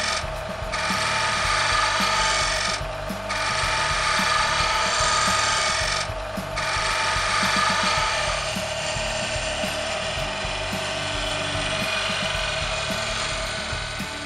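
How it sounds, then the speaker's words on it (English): Wood lathe spinning a blank for a cake stand while a roughing gouge trims it round, a loud steady rotating drone with rapid rattling scrapes and chatter as the tool meets the wood, pausing briefly at intervals. "I need to just trim this wood down so it's a perfect circle and nice and"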